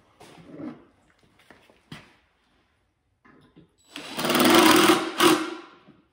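A power drill drives a screw into wood for a sheep mineral lick feeder, a loud whirring burst of about two seconds after some quiet handling noises.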